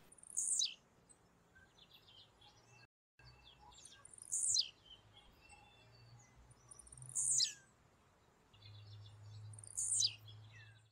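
Birds sing at a rural property in western Paraná, Brazil: four short, high, bright phrases repeat at regular intervals over faint background hum, moderately distant.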